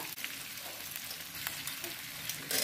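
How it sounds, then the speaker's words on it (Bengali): A spoon stirs cashew paste into soft cooked vegetables and potato in a pan, quiet scraping and soft sizzling with faint clinks, close and continuous. "এটাকে আমি নেড়ে নেবো একটু।"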